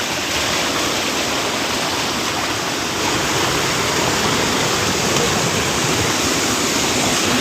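A strong volume of river water pours and churns nearby, a dense, unbroken roar like a small waterfall that holds steady throughout, with no talking.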